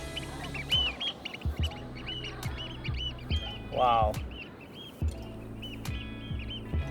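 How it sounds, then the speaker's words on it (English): Birds call outdoors, a few loud quacking, honking cries that stand out near the middle amid wind and background noise, with someone briefly speaking. "Oh, look at the birds."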